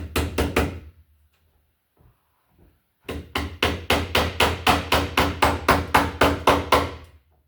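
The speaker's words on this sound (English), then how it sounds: "so I'll staple it up here" A hammer tacker drives staples to fix electrical wire to the ceiling while a new light fixture is installed in a drop ceiling: three quick sharp strikes, a pause, then a steady run of about fifteen evenly spaced loud hits, close by.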